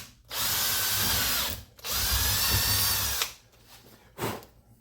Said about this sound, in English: now I'm going to go in and drill that hole back out